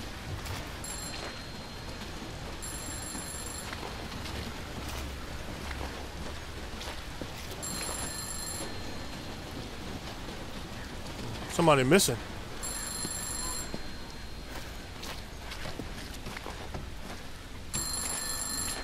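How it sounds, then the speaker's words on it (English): A telephone rings in a video game, in repeated bursts of ringing over a constant rain-like hiss, with a brief voice breaking in partway through. "Yes, the phone's ringing"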